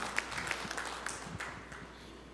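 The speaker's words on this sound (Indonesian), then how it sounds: "Berikan tepuk tangan yang meriah buat Tuhan." A church congregation applauds together, a dense wash of clapping that holds steady for a couple of seconds, heard from within the hall at moderate level.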